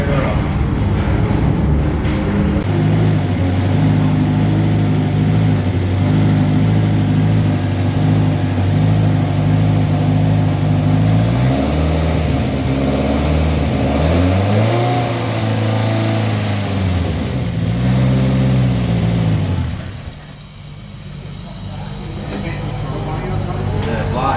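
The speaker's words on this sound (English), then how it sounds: "Might be the engine sound alright." A small RC drift car engine whines and revs steadily, rising and falling in pitch, with voices talking over it before it drops off near the end.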